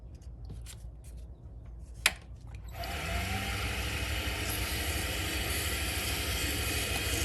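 A handmade pen is sanded with regular sandpaper used wet, producing a steady, close rasping scrub that starts after a sharp tap and continues evenly without talk.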